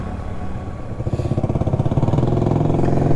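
A Honda PCX 160 scooter's engine runs at close range beside a road, a steady pulsing mid-pitched putter that grows a little louder toward the end.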